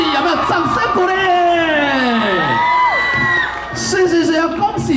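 A lively crowd at a book launch ice-breaking ceremony cheers and whoops loudly. High, sliding shouts rise and fall over a dense bed of excited voices.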